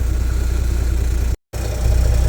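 A 1988 Marmon 57L truck engine idles steadily at close range, with a deep, continuous low rumble; the sound cuts out for a split second midway, then returns at the same level.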